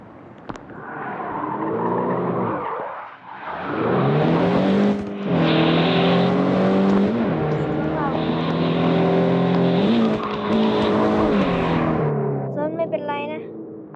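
Cars in a driving video game whine and rev in long rising and falling engine tones with a brief skid-like burst at the end, loud and continuous throughout.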